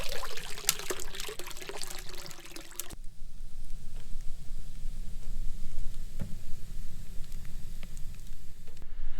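Water pours and splashes steadily into a wood-fired hot tub filled right to the brim with ice-cold water, loud and close for the first three seconds, then a softer, continuous trickle and overflow noise follows.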